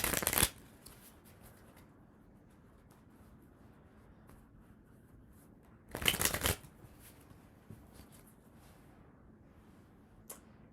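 Two sharp riffling bursts of tarot cards being shuffled, one at the start and one midway, close and crisp against a quiet room hum, with a faint tap near the end.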